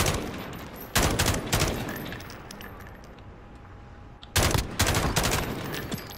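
Pistol shots in Modern Warfare multiplayer, a few sharp loud bursts separated by quieter stretches of game ambience, with two clusters of rapid reports near the start and end.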